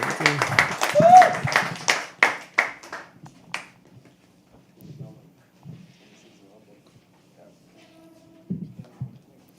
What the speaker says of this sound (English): Clap. Till she comes on stage.